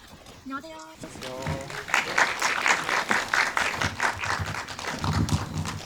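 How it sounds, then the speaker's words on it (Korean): An indie film talk audience gives sustained applause to welcome the director and actors as they enter, a dense wash of clapping that builds after a brief opening voice and carries on steadily to the end. "들어오실 때 정말 따뜻하게 큰 박수로 세 분을 맞이해주시기 바라요"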